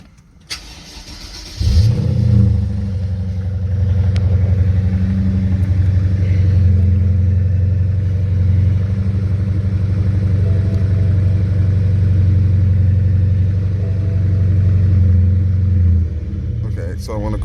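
A BMW car engine cranks and catches, then settles into a steady, close, low idle rumble that runs on for many seconds.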